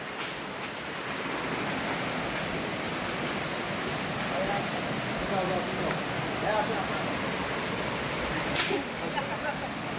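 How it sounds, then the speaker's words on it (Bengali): Water current rushing at the Dhuppani waterfall stream, a dense, steady broadband roar close by, with faint voices underneath. "এই তো এখানে স্রোত আছে"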